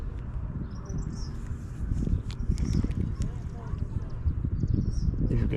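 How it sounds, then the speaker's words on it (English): An eastern kingbird gives a few short, thin, high chattering calls, faint and distant, at a lake in Pennsylvania. Heavy low rumble and handling noise run underneath, with no one speaking. "If you can hear that bird, that is an eastern kingbird."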